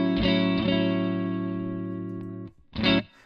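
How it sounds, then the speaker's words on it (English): A clean electric guitar chord on the neck pickup of an Ernie Ball Music Man Cutlass HSS rings out with light reverb and no pedals, strummed twice then left to sustain and decay before a final strum. "So that's with no pedals, just a little bit of reverb."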